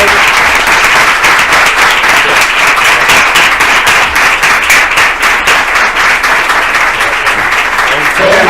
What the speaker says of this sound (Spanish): Bueno, pues vamos a aplaudir, por favor.